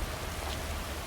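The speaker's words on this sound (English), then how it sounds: "This rain will stop eventually." Steady, even rain hiss from the video game Skyrim, close and continuous with no talk over it.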